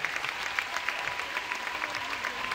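Steady applause from a dance festival show crowd in Bordeaux, dense clapping filling the room without pause for a few seconds.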